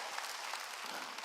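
Church congregation clapping during a Sunday worship service, a brief, dense patter of many hands at moderate distance, with no talking over it.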